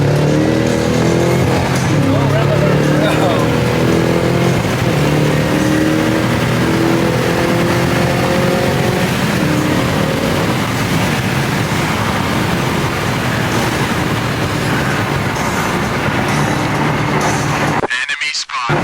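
A Lexus LS430 accelerating onto a freeway, heard from inside as a loud, rising engine drone over road and wind roar that stays strong before cutting off at the end; people speak faintly.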